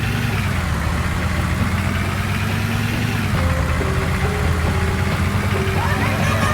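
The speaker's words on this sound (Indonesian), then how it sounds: "Yuk digas, busnya Pak Supir." Bus engine running loudly at close range with a steady heavy drone, its pitch rising slightly as the engine is revved in the second half.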